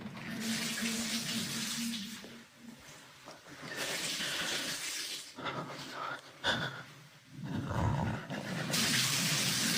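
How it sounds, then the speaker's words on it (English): Bathtub tap running at night, water gushing in bursts that start and stop repeatedly, fairly close and loud in a quiet room. "the water in my tub is turning on and off and on and off."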